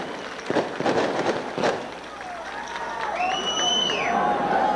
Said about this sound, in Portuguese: Uma salva de palmas, vamos aplaudir